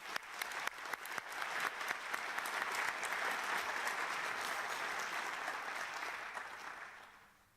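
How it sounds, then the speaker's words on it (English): Applause from delegates at the closing plenary of the IAEA Symposium on International Safeguards 2018, a few sharp early claps swelling into broad, steady clapping that fades away at the end. "we applaud you once again"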